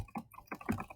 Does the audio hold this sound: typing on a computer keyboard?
yes